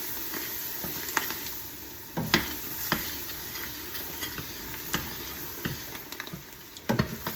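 Chopped vegetables are stirred into a hot pot of sausage, chicken and shrimp gumbo with the burner turned off. Soft sizzling and hissing run underneath, with scattered scraping and clinking spoon strokes against the pot.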